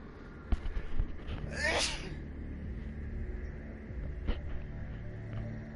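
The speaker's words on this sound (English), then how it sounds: "Oh, I'm sneezing like crazy right now." A single loud sneeze bursts out close to the microphone, followed by quiet breathing and faint room noise, with a soft sniff or click later on.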